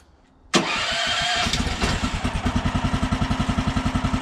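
A sawmill engine cranks and catches with a loud burst, then settles into a steady, rhythmic chugging idle close by.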